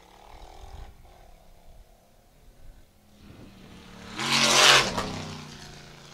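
An off-road race truck in a Pro Unlimited or Ultra4 desert race in Broadview, Montana roars past, building from a distant rumble to a loud brief swell around the midpoint before fading away.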